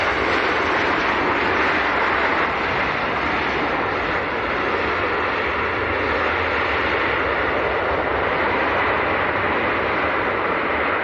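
A Ryanair Boeing 737-800 jet airliner at Leeds Bradford Airport gives a loud, steady broadband engine roar that holds evenly throughout, with no voices over it.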